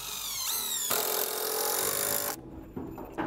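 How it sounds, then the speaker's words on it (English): A power drill drives screws into a wooden roof joist on a log cabin frame, whining up in two close, loud bursts before stopping, followed by short clunks of handling. "You can either nail that or put some screws in it, like I'm going to do here."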